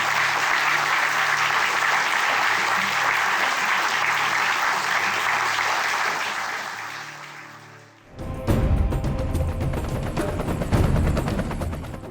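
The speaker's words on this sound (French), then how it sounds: "Je vous demande de les applaudir très fort." A conference audience at a tribute evening applauds loudly for about eight seconds, a dense, sustained clatter of many hands that fades out before a sharp, crackling burst of noise breaks in.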